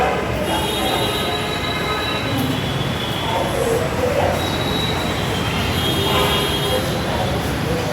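A metro train at Agargaon metro rail station in Dhaka, with steady loud wheel squeal and rumble from a nearby passing or braking train, filling the whole stretch without letting up.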